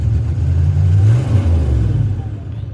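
A GM 6.5 diesel truck engine revs at full throttle, a loud, deep rumbling drone that climbs in pitch and then eases back, heard close up with no talk over it.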